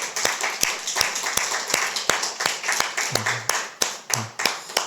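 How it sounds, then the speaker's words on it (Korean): Church congregation at a Sunday service clapping for their young people, a sparse, uneven patter of individual claps that builds into a steadier round, moderately close, with a faint low voice murmuring briefly near the end. "박수 한번 쳐주면 좋겠습니다"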